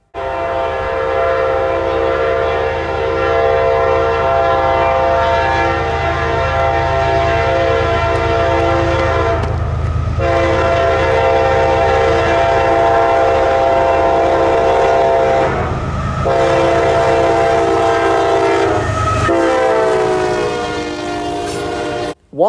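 Freight train M569, led by a single GEVO locomotive, sounds its horn in long sustained blasts over a steady rolling rumble of railcars, loud and near.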